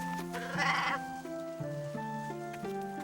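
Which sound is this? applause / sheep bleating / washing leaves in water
sheep bleating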